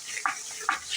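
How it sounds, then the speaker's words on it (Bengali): Ginger-garlic paste frying in oil, stirred so that two quick scraping swishes cut through a soft, steady sizzle, close and fairly quiet. "আমি সব তরকারি আদা রসুনটা একটু তেলে ভেজে দিই।"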